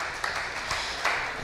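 Audience applause at an FFA ham and bacon sale, a steady wash of many hands clapping at moderate volume for just over a second, with a few slightly louder claps standing out.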